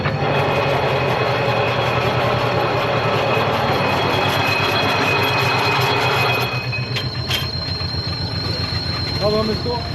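A tractor, the Grain Cruiser, idles with a steady rumbling engine drone as its shuttle gear shifts from forward to reverse. The engine note drops and changes about two-thirds of the way through, with a few light clicks after. A voice talks over it.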